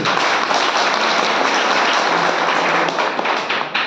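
A health session audience bursts into thick, loud applause, many hands clapping densely and evenly for a few seconds before easing at the very end.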